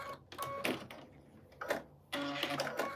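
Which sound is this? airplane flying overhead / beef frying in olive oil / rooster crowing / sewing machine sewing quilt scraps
sewing machine sewing quilt scraps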